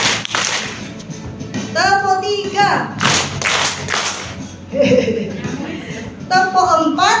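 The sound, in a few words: group clapping, clap patterns two and three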